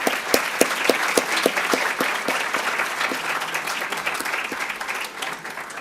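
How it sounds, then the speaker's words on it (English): A large audience at the 2013 HOSA conference closing session bursts into applause: loud, dense clapping that swells at first and then slowly thins out over several seconds. "Let's give all the groups one big final round of applause."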